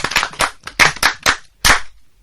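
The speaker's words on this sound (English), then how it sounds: "Répète, applaudissez." A French class claps together in short, sharp bursts, loud and close, the separate rounds of hand claps coming in uneven clusters with brief silences between.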